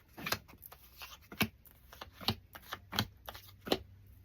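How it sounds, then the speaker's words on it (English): Tarot cards being shuffled at the close of a general tarot reading, heard as a series of sharp, close papery snaps and riffles in irregular bursts, with quieter rustling between them and no talk. "if I shuffle"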